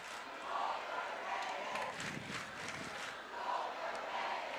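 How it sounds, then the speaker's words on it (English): A high school football crowd in the stands at a Friday night rivalry game chants in unison, the rhythmic mass of voices rising and falling from a distance. "the Eastside crowd now chanting overrated"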